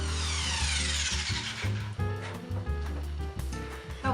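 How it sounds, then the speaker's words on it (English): A power tool whirs steadily up close, drilling small holes into a wooden diorama frame for a Halloween bird craft, with uneven grinding surges and brief dips in pitch. "now I'm gonna drill some holes to install that"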